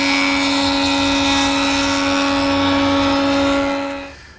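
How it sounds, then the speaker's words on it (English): Jointer making a cleanup pass on a freshly sawn wood edge, a loud steady whine with strong tonal hum that holds evenly, then cuts off and winds down at the end. "one cleanup pass at the joiner on that freshly sawn edge"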